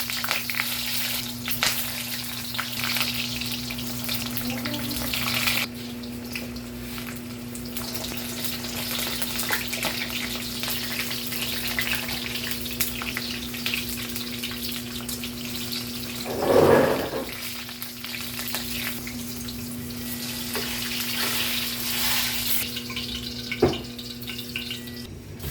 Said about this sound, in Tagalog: Prito muna tayo ng talong.